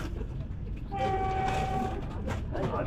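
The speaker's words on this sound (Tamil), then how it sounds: "இப்போ நீங்க பாக்குறது தான் திருநெல்வேலியில இருந்து விருதுநகர் போற வழியில நம்ம வந்தே பாரத் எக்ஸ்பிரஸ் 110 km/h ஸ்பீட்ல போச்சு" Vande Bharat Express semi-high-speed train running at about 110 km/h between Tirunelveli and Virudhunagar, a steady rushing rumble with a sustained horn blast partway through and faint voices under the noise.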